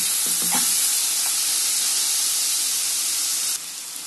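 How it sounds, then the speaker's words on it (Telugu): Soaked moong dal frying in a pan for a tomato curry, giving a steady broadband sizzle with a few stirring scrapes early on, heard alone at close range. "ఇది ఫ్రై అవుతుందండి, 2 minutes."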